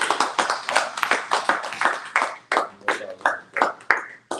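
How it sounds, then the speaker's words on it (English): Applause after a Torah portion teaching, heard as a small group clapping in distinct, fairly even bursts that grow sparser and more spaced toward the end, close and clear with no talk. "Let's get a Most High round of applause"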